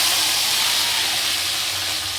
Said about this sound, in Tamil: இப்போ வந்து நம்ம கடுகு சேர்த்துக்கிறோம்.